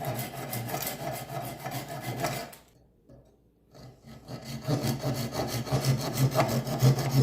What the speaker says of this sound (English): This saw's got 2 sides to it. It's got this one coarse and then that one fine side.